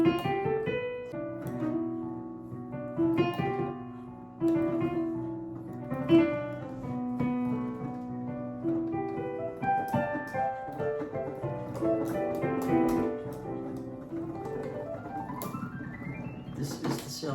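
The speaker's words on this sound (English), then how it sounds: "This is the sound of Locrian." Piano notes in Locrian mode ring out clearly alone, a steady line of sustained tones over a held lower note, ending in a rising run of quick notes.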